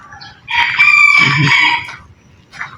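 A rooster crows loudly once, a long strained cock-a-doodle-doo, followed by a brief softer cluck near the end.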